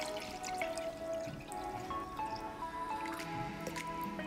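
Water pours into a measuring cup in a home kitchen, with a soft trickling and dripping stream and rising filling tones, moderately quiet and close, with no voices.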